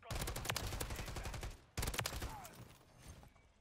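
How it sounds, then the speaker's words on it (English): Rapid gunshots from Call of Duty MW3 ring out in two sustained bursts separated by a brief pause, crisp and fairly close, with a faint whizzing tail near the end. "I'm hearing some shots."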